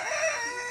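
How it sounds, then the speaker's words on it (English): A rooster on a farm crows once, a short bright call heard at moderate distance with no speech. "we weren't planning on the rooster"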